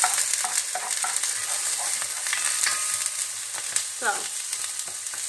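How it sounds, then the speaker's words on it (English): Onions frying in a pan for risotto, a loud continuous sizzle with scraping stir sounds, while people talk over it and a brief spoken word breaks through. "we're going to go ahead and put on the onions"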